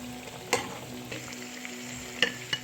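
Onion bondas deep-frying in hot oil give a steady, soft bubbling sizzle, broken by a few sharp clicks and taps from turning them in the pan.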